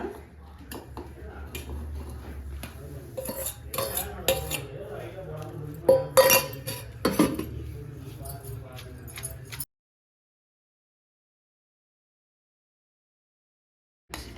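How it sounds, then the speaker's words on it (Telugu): Ivy gourd chutney with tomato and salt is pounded by hand, giving irregular knocks and clinks, some sharp and loud, over about ten seconds with occasional talk, then silence before a brief final sound. "పచ్చడి దంచుకుందాము"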